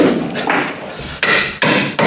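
Three or four sharp hammer strikes on metal land at uneven intervals, close and loud, each with a brief ringing tail, during a V8 engine install in a Holden HT.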